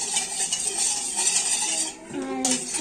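A spoon clinks and scrapes against a glass or metal vessel while stirring a lemon water mixture, a run of light rhythmic tinkling taps with a brief ringing clang near the end.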